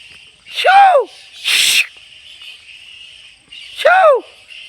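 Bats roosting in a banyan tree give loud, shrill, swooping squeaks, with two sharp chirping calls and a harsher screech between them, close by against a quiet background.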